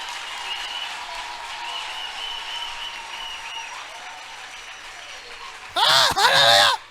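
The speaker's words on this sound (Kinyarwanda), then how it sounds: "Komera Imana amashyi" A church congregation at a worship service breaks into loud, sustained clapping near the end, after several seconds of quiet room tone.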